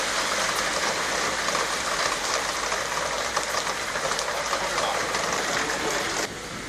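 Steady summer rain pours down at Marine Drive in Kochi, a dense continuous hiss that stays loud throughout and drops slightly in level near the end.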